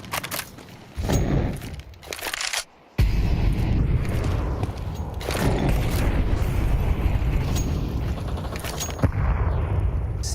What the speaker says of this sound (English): Here's the break of the smoke and the flashbang.